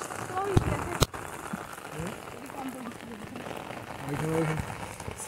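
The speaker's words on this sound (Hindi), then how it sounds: "बारिश भी शुरू हो गया गाइस।" Rain begins falling outdoors near a hilltop temple in Darjeeling, a steady hiss with a few sharp knocks and faint voices in the background.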